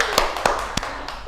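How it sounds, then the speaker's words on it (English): Classmates clap briefly for a student in a microteaching lesson, three or four sharp separated claps spread over about a second, close and moderately loud. "Give applause for Akila."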